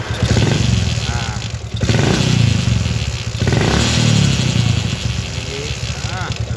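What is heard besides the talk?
Yamaha Jupiter MX motorcycle engine revving with strange noise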